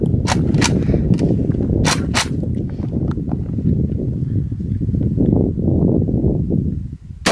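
A Palmetto State Armory AK fires a 7.62 rifle round outdoors, heard as sharp loud cracks near the start, followed by rustling and ambient noise.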